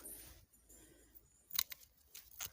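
Garden shears snip through perennial aster stems in a few quick, faint cuts. Soft rustling and crisp clips come close up in a quiet outdoor setting, and no one speaks.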